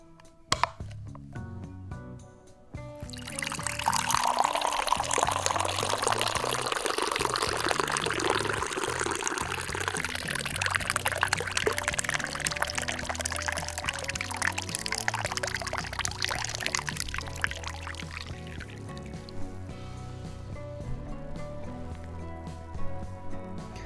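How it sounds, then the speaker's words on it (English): Water pours in a long continuous stream for about fifteen seconds, starting abruptly after a quiet lead-in and thinning toward the end, against faint background music with no speech. "Lovers of water sounds rejoice."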